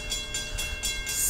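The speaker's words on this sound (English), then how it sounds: "I'm guessing this might be CSX train" A CSX freight train, Q580, passes southbound on the Monroe Subdivision at Edgemoor, South Carolina, with a loud, close, steady rumble and hiss of rolling cars and rhythmic surges from the wheels.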